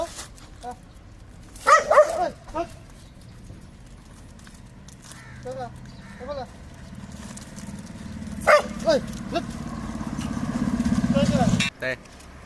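A dog barks in a few short bursts separated by pauses, with a quieter background hum and some muffled talk between barks.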